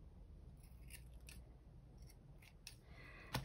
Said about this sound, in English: So I'm just cutting off that excess fuzz just in case it affects anything.